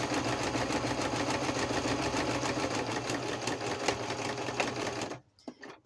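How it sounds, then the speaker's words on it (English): A sewing machine that had been acting up stitches down a pocket flap made from a book page, running in one steady, close, loud whirring burst for about five seconds, then stopping into quiet with a few faint handling clicks. "my sewing machine was acting up earlier"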